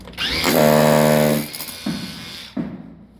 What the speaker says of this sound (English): And I'm going to go ahead and pre-drill my hole.